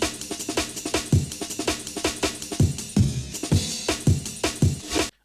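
Two drum breaks layered together in a jungle beat, a dense, steady drum loop of crisp snares, kicks and rattling cymbals, loud and continuous with no talking.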